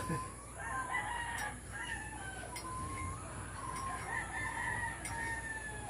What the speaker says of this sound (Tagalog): maingay yung mga manok dito